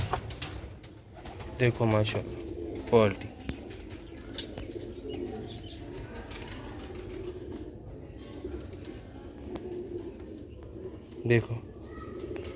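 Pigeons, a pair offered for sale, give soft rounded coos in a few short bursts near the start and again toward the end, under someone talking over faint outdoor background.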